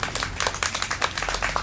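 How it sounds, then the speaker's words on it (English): Wedding guests applaud together in a brief burst of close, dense clapping with uneven rhythm. "let's have a round of applause"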